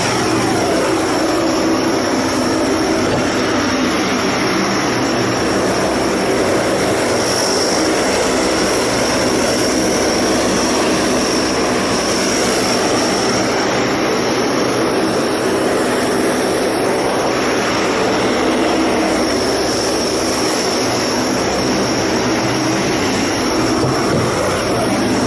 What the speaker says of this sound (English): we'll again see that Herc that's out there that's about to take off